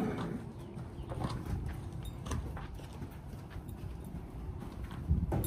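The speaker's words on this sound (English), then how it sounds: "These are the two mares that we rescued and this is us getting them loaded up into the trailer." Two rescued Belgian draft horse mares are loaded into a trailer, their hooves clopping faintly and irregularly over a low, muffled background, with one heavier thud near the end.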